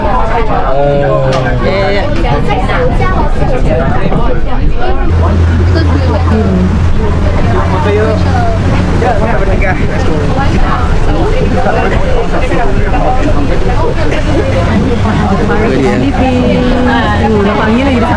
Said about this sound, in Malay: Kita naik River Cruise.